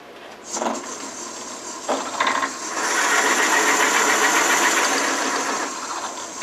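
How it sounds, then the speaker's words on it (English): Shopsmith drill press boring with a 5/16 inch bit, a loud steady whirring grind that starts after a few short bursts and holds for several seconds before easing off. "Take this bit out and put in the 5/16 inch bit and run her through."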